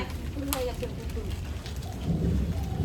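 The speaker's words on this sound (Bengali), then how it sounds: "কি অবস্থা, বৃষ্টি হচ্ছে।" Steady rain hisses throughout a short stretch during a downpour, while people talk nearby over the wash of falling water.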